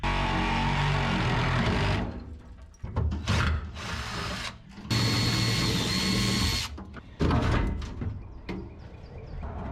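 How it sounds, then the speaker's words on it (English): Sawzall reciprocating saw cutting through a metal plate on a car tailgate, loud buzzing runs broken by several short stops and restarts, close by. "Let's get the old sawzall."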